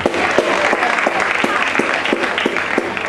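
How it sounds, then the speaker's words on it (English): Sustained applause from a church congregation at a Black History Month event, dense steady clapping throughout with a faint voice or two underneath. "Give them another round of applause."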